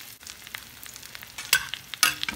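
Cauliflower and unpeeled garlic fry in butter in a pan: a quiet, steady sizzle with soft stirring shuffles and two sharper, brighter spits of fat near the end, no voices.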